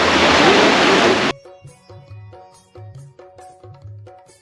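Rushing stream water at the Kainchi Dham ashram in Uttarakhand roars loudly and close for about a second before cutting away to quieter, pulsing tonal sounds.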